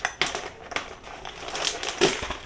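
Keys scrape and jab at a cardboard shipping box, producing a quick run of close, sharp scratches, taps and tearing crinkles that come in irregular bursts.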